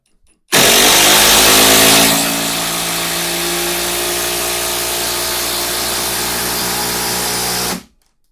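A Procraft Industrial ID20A impact wrench (180 Nm, 3500 rpm) runs on its first, lowest power mode, driving a 20 mm fastener: a loud, close, continuous whir that starts abruptly, holds for about seven seconds and cuts off, with no talking.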